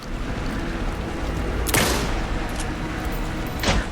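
Gunfire in the video game Alan Wake II, two sharp shots cracking several seconds apart over a dense, rumbling ambient background.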